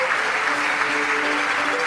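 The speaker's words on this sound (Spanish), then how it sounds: "Un aplauso para Juan Ignacio" Brief burst of steady audience applause for Juan Ignacio in a Spanish-language program about the Sephardic legacy, dense and even for under two seconds.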